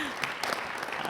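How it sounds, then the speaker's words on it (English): A short burst of scattered audience clapping at a global health awards ceremony, fairly faint and thin, with a few distinct claps standing out. "we'll give them an applause anyway."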